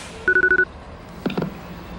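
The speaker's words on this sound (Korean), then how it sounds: "마침 남자친구에게 전화가 걸려오게 됩니다" A telephone sounds for an incoming call with a quick run of five short, even electronic beeps, followed by a brief softer burst of phone noise.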